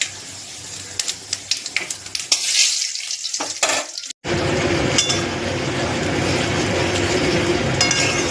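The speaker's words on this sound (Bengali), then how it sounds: "এবার ফোড়নটা দেবো।" Hot oil sizzling loudly as dry red chilli and panch phoron tempering are added for a vegetable dal, with clinks and stirring at first, then a sustained steady frying hiss after a brief cut.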